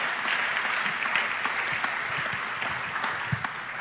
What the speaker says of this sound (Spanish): Vamos, denle un aplauso al Señor por su misericordia.